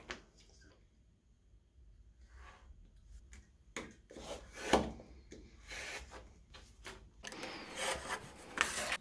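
Sawing through a small wooden offcut by hand, faint scraping strokes in uneven bursts, quiet at first then busier and louder toward the end.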